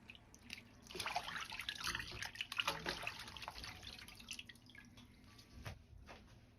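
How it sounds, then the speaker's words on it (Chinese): Garlic sprouts and celery being washed in water in a kitchen sink, with steady close splashing and dripping that swells and then tapers off, without talk. "蒜苗和芹菜先放入水中清洗干净。"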